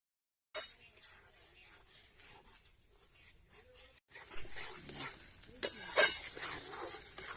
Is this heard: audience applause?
no